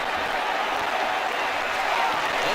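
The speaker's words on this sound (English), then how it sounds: "That shot brought the crowd to their feet." Broadband crowd noise from a cricket video game fills the stadium with steady, dense applause and cheering that holds at an even level throughout, with no clear breaks.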